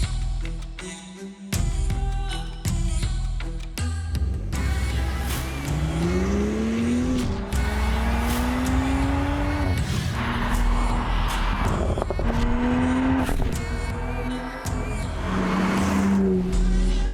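A Morgan Supersport sports car drives past and accelerates, its engine note rising through several gear changes with revving sweeps and tire noise, loud and close, with no talk over it.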